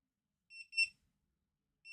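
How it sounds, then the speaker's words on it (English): Faint, high electronic beeps: a short cluster of two or three quick beeps, a pause, then one more beep, in otherwise near silence. "so it beeps. It beeps."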